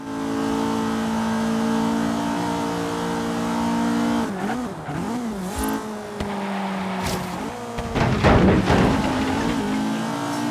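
A race car engine drones at high revs on a night circuit in Forza Horizon 3, steady and loud, then wavers through shifts and drops before a harsh burst of tire squeal and revving near the end.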